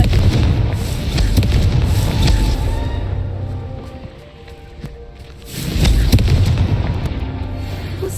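Spell-cast explosions from the Confringo curse in Hogwarts Legacy boom repeatedly in close, heavy bursts, fading briefly before another loud barrage of blasts and crackling debris.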